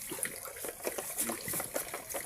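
Water trickles and splashes from an alulod, a gutter-style spout at a rural water source, a steady close patter of droplets with no talking.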